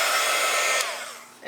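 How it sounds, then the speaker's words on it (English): A heat gun blasts steadily while drying freshly stamped ink on a card, a loud, close broadband hiss that cuts off sharply near the end and fades, with no talking. "I'm going to use a heat gun really quick just to make sure this ink is dry so it doesn't smear up on me."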